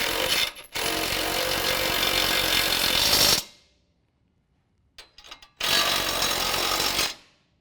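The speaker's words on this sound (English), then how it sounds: "I'm going to use an impact just to snug them up" Impact wrench snugging skid plate bolts while installing a lift kit on a 2015-17 Ford F-150 4WD: two loud, close bursts of rattling hammering, each several seconds long, separated by a short pause with faint clatter.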